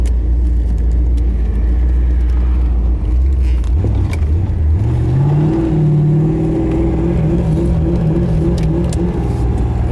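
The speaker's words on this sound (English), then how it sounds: "there's a lot of traffic on Sundays up here" A car passes on a busy road on a Sunday, rising from a low rumble into a louder engine whir near the middle, then steady traffic noise continuing close by.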